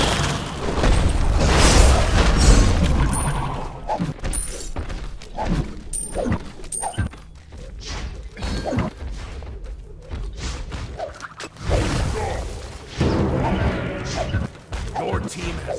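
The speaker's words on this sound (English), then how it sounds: "Your team has destroyed a left enemy tower." Crashing, shattering destruction of an enemy tower in the battle game Smite, a loud burst of smashes and thuds that trails off into scattered impacts and game effects before a second heavy crash rises near the end.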